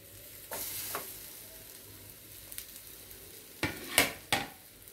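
Pineapple pieces deep frying in oil, a low steady sizzle with a few sharp scrapes and clinks of a utensil against the pan, no voices.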